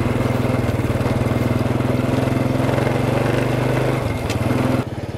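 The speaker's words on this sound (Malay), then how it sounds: "Naik motor kita pergi cari tempat lain." A motorbike engine runs loud and close with a steady throbbing chug, then the rhythm shifts briefly near the end before it drops away.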